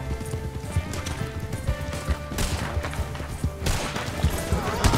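Horses in Red Dead Redemption 2 gallop with rapid, loud clip-clop hoofbeats and let out neighs, mixed with crashing game noise and bursts of gunfire.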